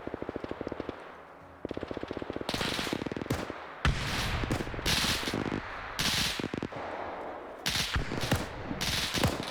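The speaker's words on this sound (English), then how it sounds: "Saul's getting back on that MG." Sustained machine gun fire in a WW2 video game, rapid bursts of rattling shots overlapping with heavier gunfire and blasts, loud and continuous throughout.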